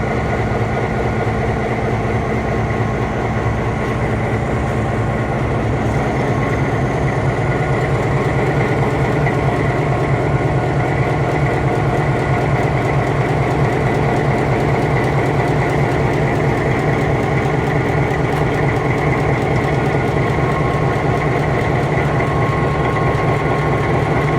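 A heavy 16-cylinder diesel locomotive engine runs close by, a loud, deep, steady rumble with a rapid throbbing pulse, and nobody speaking.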